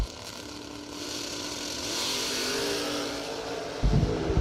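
A 1968 Camaro vintage drag car launches down the strip at a drag racing bracket event, its engine roaring steadily and building in a long sustained run, with a louder burst near the end, heard from a distance.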